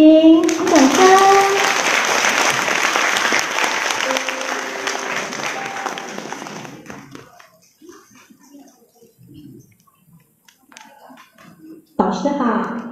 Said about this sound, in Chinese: 让我们掌声欢迎来自彰化的如林，掌声